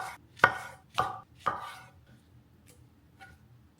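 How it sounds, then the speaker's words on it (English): A knife chops tomatoes on a cutting board for sinigang, three sharp, close thuds about half a second apart, followed by a couple of faint taps, with no talking. "you don't even have to really chop it fine at all"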